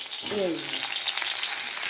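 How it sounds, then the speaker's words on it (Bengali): Fish frying in a pan makes a constant crackling sizzle, close and fairly loud, with a brief squeaky tone near the start and no talking. "মাছ ভাজা চলছে, হয়ে গেছে।"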